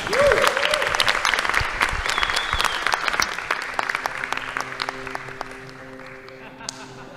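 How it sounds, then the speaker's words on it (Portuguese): Audience applause welcoming a presenter at a Brazilian business talk, strong at first and gradually thinning to scattered claps, with brief tones and faint voices mixed in as it dies down. "Então, por favor, recebam com uma salva de palmas Marcelo Pinazza."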